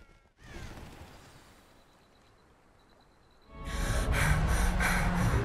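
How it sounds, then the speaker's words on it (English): A Hebridean Black dragon in Hogwarts Legacy gives a sharp snort, then heavy, labored breathing swells into loud, rhythmic rasping huffs close by. "Labored breathing."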